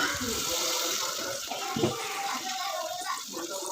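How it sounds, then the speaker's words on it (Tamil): Tamarind water and ground masala are poured into a fish curry in a pan, a steady continuous pour and slosh of liquid heard close up with no talk over it. "மசாலா அரைச்சி வச்ச மசாலா அப்புறம் வந்து கரைச்சி வச்ச புளி எல்லாமே எடுத்து இதில் வந்து ஊற்றிடலாம்"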